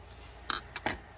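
Scissors trimming a piece of material, three quick close snips in succession over a quiet background.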